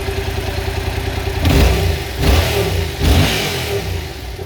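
A warmed-up Yamaha MT-07 motorcycle on its stock exhaust, idling loudly close by and then blipped through three short revs in a row before settling back to a steady idle.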